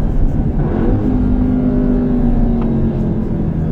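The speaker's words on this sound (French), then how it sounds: "Alors on parle du son moteur 2 secondes" The engine of a 2024 Audi S3 Sportback with 333 hp drones steadily at high revs from inside the cabin, a continuous low hum without pauses.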